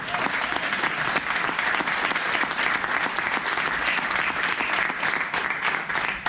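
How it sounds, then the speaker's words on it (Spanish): A church congregation at a Spanish-language service in Arizona breaks into sustained applause, a full, even roar of many hands clapping for over six seconds, moderately loud and without pause. "Den un aplauso al Señor."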